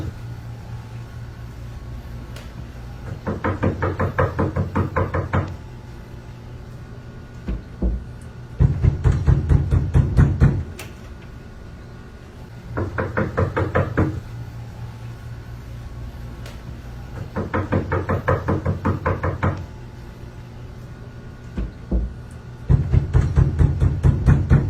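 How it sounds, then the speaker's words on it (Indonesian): Bursts of rapid knocking on a door repeat in regular bouts every few seconds, loud and near, with quiet pauses between. "aksi teror suara ketok pintu tengah malam di Malang"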